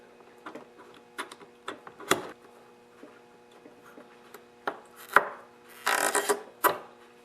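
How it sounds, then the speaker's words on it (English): An X-Acto knife slits a rubber fuel line on a two-cycle Lawn Boy lawn mower, giving scattered, close, sharp little clicks and scrapes with a denser scraping burst near the end and quiet gaps between. "I'm just going to grab an X-Acto knife and just cut a sliver in the"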